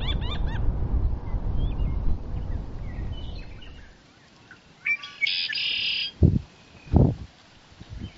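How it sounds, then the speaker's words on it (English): Noisy Franklin's gull calls and yakking cries amid a busy morning marsh bird chorus, then quieter with a few scattered calls and brief bursts of sound. "And Franklin's gulls out by Gleeson."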